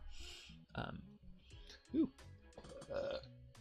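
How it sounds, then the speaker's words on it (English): Burping during a tabletop role-playing game session, a short croaky belch amid quiet chatter and other vocal noises nearby, with people talking around it. "All these burps are trauma."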